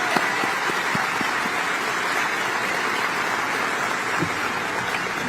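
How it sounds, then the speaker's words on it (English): A crowd applauds for Senator Dick Durbin at a Democratic gathering of county chairs, a steady broad wash of clapping that holds at an even level throughout with no voices over it. "Let's give him a round of applause."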